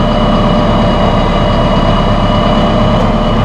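A tractor pulling a Massey Ferguson 1393 RazorEdge disc mower conditioner drives forward, giving a loud, steady low engine drone with a constant mechanical hum and no talk.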